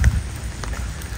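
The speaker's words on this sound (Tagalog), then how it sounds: "Ayan oh, panay ang ulan." Steady rain falls outdoors during a week-long wet spell, a continuous soft hiss over a low rumbling wash, with no voices.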